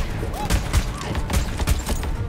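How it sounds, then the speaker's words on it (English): Grenade blasts strike the player in Borderlands 3, a rapid run of heavy booming thuds and crackling bursts, loud and close, overlapping one another across a couple of seconds. "Did I just eat three grenades to the face?"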